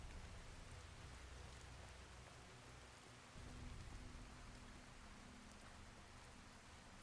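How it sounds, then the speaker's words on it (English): Steady rain falling indoors in Fallout New Vegas, a continuous hiss of drops on surfaces with low rumbling beneath, even and moderately quiet throughout, with one brief sharp tick at the very end. "I don't think it should be raining in here"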